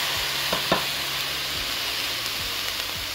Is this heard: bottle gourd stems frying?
yes